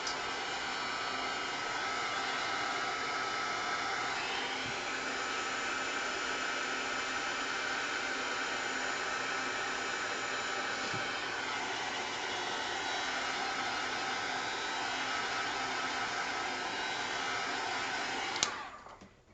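A hair dryer blows steadily and close by for most of the stretch, drying black gesso and Art Alchemy paints on a mixed media tag, its even rushing hiss holding level before cutting off near the end.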